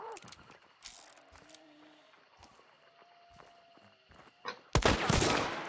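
Shotgun slug shots in the game Hunt: Showdown ring out as a few sharp isolated cracks amid quiet footsteps and gear clicks, ending in a louder, longer blast.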